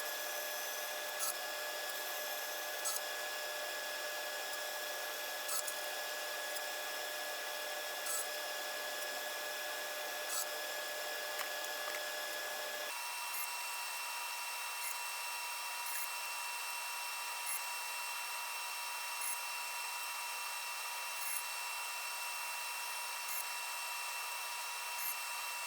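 Power saw on a crosscut sled slicing thin wood strips into diamond shapes for a Penrose-tile guitar build, a steady whine running throughout with a slight shift partway through, close and moderately loud with no talk.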